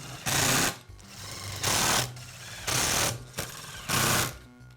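Power driver running screws in short bursts to fasten the motor housing back onto a DeWALT circular saw during armature bearing replacement; four loud whirring pulses of about half a second each, close by, with no talking.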